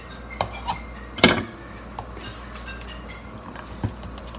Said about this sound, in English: I'm gonna take my knife again, get the big pieces, chop them up